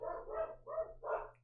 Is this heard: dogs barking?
yes